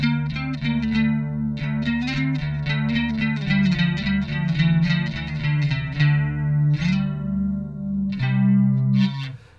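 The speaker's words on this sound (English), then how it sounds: "with the subtle use of distortion, the way I used it, the guitar would sing" A Yamaha BB bass guitar with light distortion and a shimmering chorus-like effect plays a quick run of sustained notes with a full, low tone and no voices.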